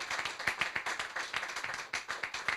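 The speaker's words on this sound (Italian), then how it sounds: "sì, un applauso" Audience applause at an evening museum event, steady hand clapping from a mid-sized crowd with sharp individual claps standing out, continuous through the moment and fairly close.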